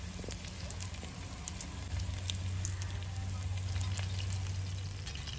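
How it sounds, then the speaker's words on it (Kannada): A big tongue fish coated in masala fries in coconut oil on a tawa, giving a steady, close sizzle with crackling pops and no talking. "ತೆಂಗಿನೆಣ್ಣೆ ಓಕೆ, ಈಗ ಮೀನನ್ನು ಫ್ರೈ ಮಾಡುವ."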